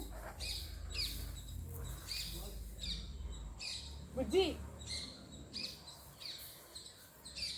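Birds chirp and tweet in short bursts around a quiet home garden, mixed with faint rustling and low background murmur.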